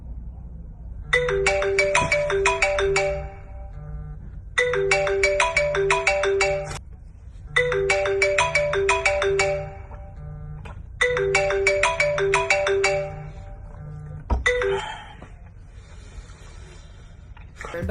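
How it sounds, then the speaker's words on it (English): A phone ringtone plays a bright repeating melodic pattern in four loud, evenly spaced bursts with short pauses between, over a faint low hum. "I used to really be bad about, when a phone rings."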